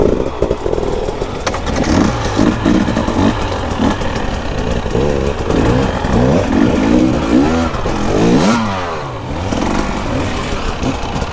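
A Husqvarna 300 two-stroke dirt bike engine revs and blips repeatedly close by, its raspy note rising and falling in quick bursts while riding off-road.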